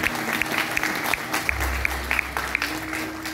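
Audience applause rising at an anniversary celebration of a Wayang Orang Bharata traditional dance-drama troupe, a steady crowd clapping wash running throughout with a low hum underneath.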